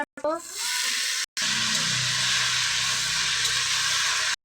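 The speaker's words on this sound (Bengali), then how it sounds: "পাট শাক ভাজা প্রায় হয়ে গেছে।" Jute leaves fry with shrimp in a pan, giving a steady broadband sizzle and hiss that continues for several seconds with a couple of brief cutouts, close and moderately loud.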